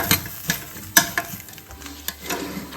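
Indian broad beans are stirred while dry roasting in a pan, giving repeated scraping, clinking strokes at an irregular rhythm over a faint sizzle, close up, with no talk.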